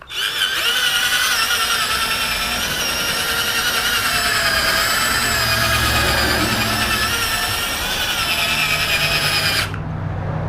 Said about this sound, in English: I like to take my drill brush and go over it dry